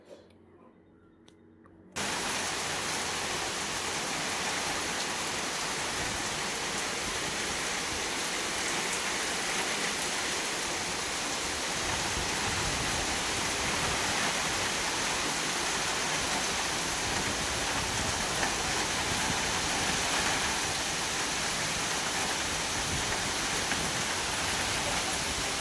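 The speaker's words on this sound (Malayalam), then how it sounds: "നല്ല കാറ്റും മഴയും ഒക്കെ ആയിരുന്നു." Heavy rain driven by wind makes a dense, steady hissing roar. After a brief quiet opening it starts abruptly and continues unbroken at an even level.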